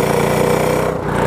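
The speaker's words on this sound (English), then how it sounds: "Oh, the tire's doing the burnout." A go-kart engine and spinning tire roar steadily, loud and close, during a burnout on slick wet grass, a continuous rough drone with no break.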